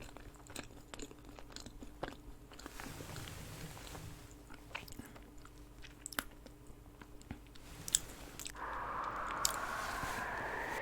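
Close-up chewing of a fat macaron scoop cookie, with soft bites, crunches and wet mastication sounds in a quiet room and no speech.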